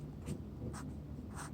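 Pen or pencil strokes scratch on paper as a dot is written by hand, three short, quiet scratching marks spaced evenly about half a second apart over a faint steady background hum.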